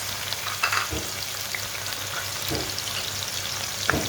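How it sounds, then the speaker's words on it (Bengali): Onions dropped into hot oil for a chicken and potato curry, a loud, steady close-up sizzle with occasional stirring scrapes and clatters, no voices. "তেলটা গরম হয়ে গেছে, দিয়ে দিচ্ছি পেঁয়াজ।"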